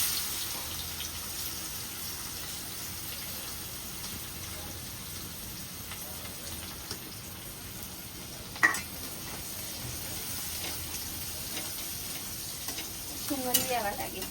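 Onion, green chillies, cumin and asafoetida frying in a home kitchen pan, with a faint, steady sizzle and occasional stirring scrapes, one sharp utensil clink midway and a louder rattle near the end.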